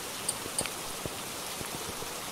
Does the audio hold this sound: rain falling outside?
yes